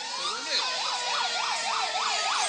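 A fire engine siren wails past in rapid, regular rising-and-falling cycles, loud and sustained throughout.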